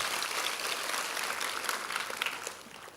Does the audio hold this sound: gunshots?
no